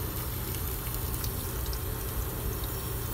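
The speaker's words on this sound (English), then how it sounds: "So this one, it's just only a blanch and cold running water." Cold tap water runs continuously over blanched broccoli in a kitchen, a dense, steady splashing rush with no pauses and no voices.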